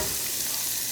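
Store-bought fresh tortellini drop into a pot of boiling water, a dense, steady bubbling hiss up close for a brief moment.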